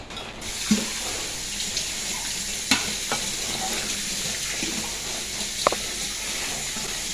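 Egg curry masala bubbling and simmering in a pan gives a steady, even hiss, broken by a few sharp clinks of a utensil against the pan.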